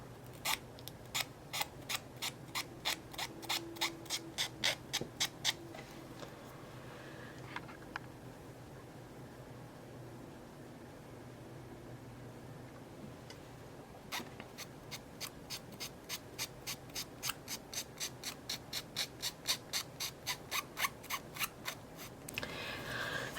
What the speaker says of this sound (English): I just finished sanding it down, and that one was really hard to sand down.